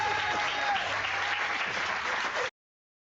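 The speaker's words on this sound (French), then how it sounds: "tu sens que c'est forcé les applaudissements" Studio audience applause: a steady, even burst of clapping from a crowd, held at a uniform level for a couple of seconds before stopping abruptly.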